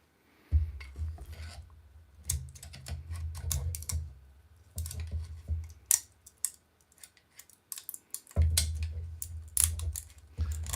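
A screwdriver scrapes and pries at plastic connection points on the floor piece of a toy castle, giving close irregular clicks and scratchy scrapes over a low hum that drops out and returns.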